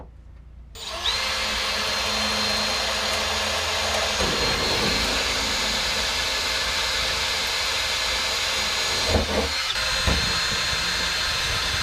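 A power drill bores a hole in the cover plate of a 1993 Dodge Dakota during a manual transmission swap, a loud sustained high whine starting abruptly and holding steady with a couple of brief load dips as the bit bites.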